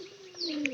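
A single pigeon gives a short, close call with a bright tonal note, heard alone against quiet surroundings.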